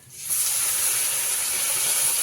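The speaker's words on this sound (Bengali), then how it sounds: "চিংড়ি মাছটা দিয়ে দিচ্ছি" Prawns hit hot oil with onion and five-spice seeds in a kadai, setting off a loud, steady hiss that starts abruptly after a brief quiet moment and holds without letup.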